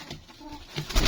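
Yemeni and Saudi pigeons coo softly in a short, low burble with a few faint murmurs, rising slightly louder toward the end, with no talking.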